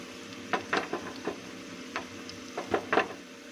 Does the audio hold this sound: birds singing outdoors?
no